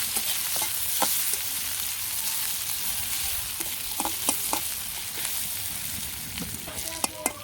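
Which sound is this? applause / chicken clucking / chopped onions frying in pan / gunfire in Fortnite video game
chopped onions frying in pan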